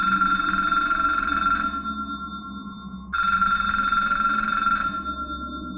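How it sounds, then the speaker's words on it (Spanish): An old-style telephone bell rings twice in long, loud bursts with a short pause between them. "mis oídos captaron el inconfundible timbre del teléfono"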